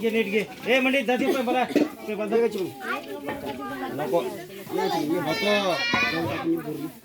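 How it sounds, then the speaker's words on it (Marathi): Several voices talk and chatter over one another in a lively, noisy jumble, with children's higher voices rising toward the end. "आता त्यांचा सगळ्यांचा कालवा ऐका हो"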